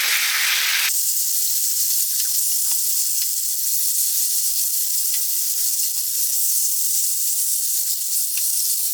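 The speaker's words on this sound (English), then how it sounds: "You see, I'm just stirring and frying as that cooks." Loud, steady sizzling of chicken stir-frying in a hot pan, a continuous bright hiss with small crackles and occasional stirring scrapes, close up.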